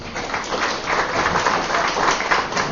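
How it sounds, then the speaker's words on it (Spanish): Steady applause from an audience fills the room, dense and continuous without pause, with no voices standing out. "Un fuerte voto de aplauso."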